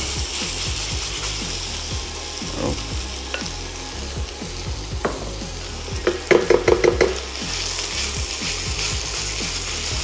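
Loud, steady sizzling of minced pork frying in a hot wok, with rhythmic scraping and clattering and a quick burst of rapid clicks midway.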